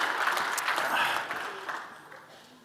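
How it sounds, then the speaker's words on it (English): An audience gives a short burst of applause, a dense patter of clapping that fades away over a couple of seconds. "I think a round of applause for all of you for hanging in there"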